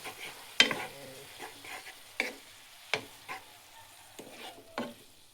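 Pancit stirred in a pan, with intermittent utensil scrapes and clacks against the pan over a faint low sizzle, close and fairly quiet.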